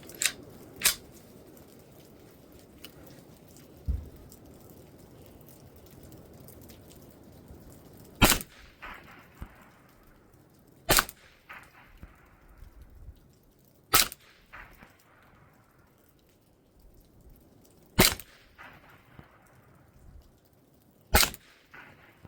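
Gunshots from a rifle firing Norma TAC .22 ammunition, about eight sharp, loud cracks spaced a few seconds apart, each with a short decaying echo over a quiet background.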